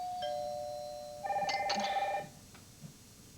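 A telephone rings in a home setting, a single electronic trill of stacked tones lasting about a second, preceded by a faint high tone, loud and close with no talk over it.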